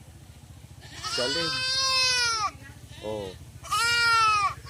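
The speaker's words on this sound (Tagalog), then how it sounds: "Kambing." Goat bleating on a rural farm, two long wavering bleats close by, with someone talking briefly between them.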